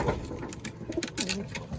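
A pigeon coos close by, with soft low throaty calls rising and falling over a busy background.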